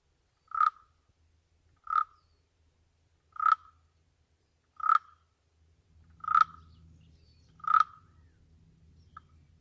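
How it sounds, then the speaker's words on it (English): Barking frog, a two-inch frog of rocky outcrops, giving six loud, short, sharp barking calls spaced about every second and a half, close and clear over near silence, with a faint low rumble toward the end. "The 2-inch long barking frog lives in rocky outcrops and lays his eggs in dry crevices."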